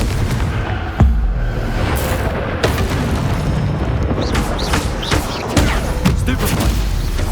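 A Confringo blasting curse from a Harry Potter video game goes off repeatedly, each sharp boom followed by a rumbling tail over a steady noisy background.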